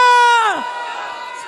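At the Qaumi Insaaf Morcha protest gathering at Gurdwara Amb Sahib in Mohali, a single loud Sikh jaikara call rings out and drops in pitch, then fades into a broad, rough roar from the answering crowd.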